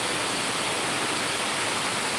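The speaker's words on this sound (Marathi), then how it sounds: "कारण पाऊस हा जोरदार आहे" Heavy monsoon rain at Amboli in Konkan, with an overflowing waterfall roaring as a dense, constant wash of noise, loud and unbroken, with no voices.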